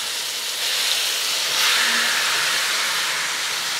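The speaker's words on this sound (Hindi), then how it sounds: "ये चिकन जो मैरिनेट किया हुआ है इसको हम डाल देंगे इस ऑयल में।" Marinated chicken tipped into hot oil in a wok, giving a steady broadband sizzle and hiss that swells slightly midway and holds loud and close throughout.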